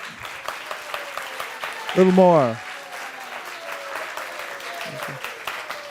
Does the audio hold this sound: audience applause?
yes